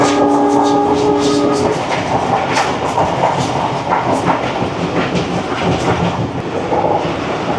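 A train runs on rails through the Thar Desert. The steady loud rumble and rhythmic clickety-clack of the wheels carry on throughout, and a faint tonal hum fades away early on.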